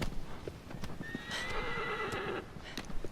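A horse in Shadow of the Colossus lets out a clear, drawn-out whinny at close range, framed by the clip-clop of hooves before and after.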